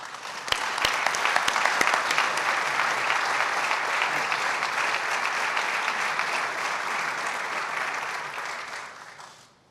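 A conference audience at a U.S.-India strategic dialogue applauds to welcome Minister Krishna, a dense, steady clapping that holds for several seconds before fading out at the end.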